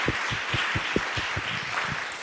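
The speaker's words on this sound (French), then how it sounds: "d'applaudir bien évidemment l'ensemble des intervenants" An audience at an urban farming talk and panel event applauds the speakers. Brief, fairly thin clapping sounds in a room, with distinct hand claps standing out over the steady patter.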